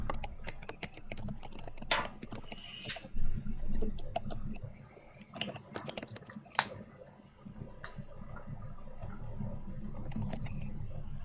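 Computer keyboard being tested after a battery change, scattered quiet key clicks and taps, irregular and sparse over a faint background hum, with a few louder knocks.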